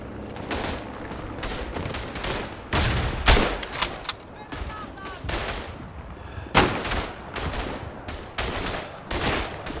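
Carbine rifle fire in the World War I shooter Verdun, with repeated loud, close bolt-action shots and distant battlefield gunfire booming in bursts amid a dense, noisy combat din.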